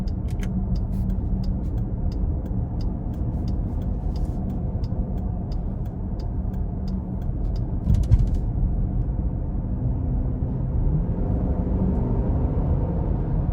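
2021 Jeep Grand Cherokee Summit 5.7 V8 driving in sport mode, heard from the cabin as a steady low engine rumble and road noise that rises slightly in pitch toward the end, with some ticking early on.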